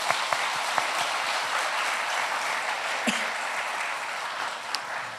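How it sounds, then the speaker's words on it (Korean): A church congregation claps steadily in encouragement during a Sunday afternoon service for middle and high school youth, a dense, even wash of applause lasting throughout at moderate distance. "우리 한번 격려의 박수로 응원하도록 하겠습니다"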